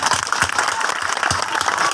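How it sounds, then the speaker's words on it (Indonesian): A church congregation at a groundbreaking ceremony for a new church building claps together in dense, continuous applause, loud and sustained with no voices over it. "Tepuk tangan bagi Allah kita"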